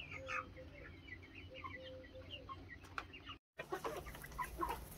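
Chickens on a hobby farm clucking and murmuring at moderate distance, with scattered bird chirps in a quiet morning setting; the sound cuts out briefly, then resumes.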